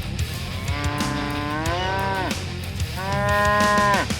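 A cow on a farm lets out two long, loud moos close by. Each one swells and then drops in pitch, with a short gap between them and no talk over them.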